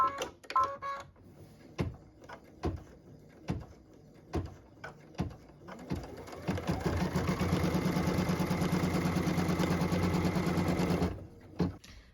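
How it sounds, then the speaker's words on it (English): Embroidery sewing machine stitching a tack-down line for a quilt flag block piece: scattered clicks and taps first, then a loud, steady rapid stitching buzz for about five seconds before stopping, with no talk. "What we're stitching now is the tack down line for piece number 2."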